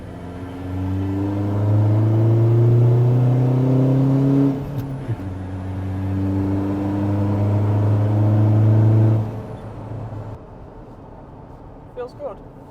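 A VW Amarok with a 2.0 BiTDI diesel accelerates hard through two gears, with rising engine drone climbing in pitch, a brief dip at the shift, then a second pull before easing off to quiet road noise.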